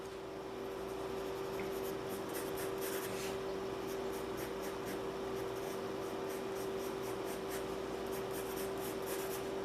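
Pencil sketching simple lines on paper for a drawing of a jacket and belt, a soft continuous scratchy rubbing close by with short strokes, over a steady low room hum.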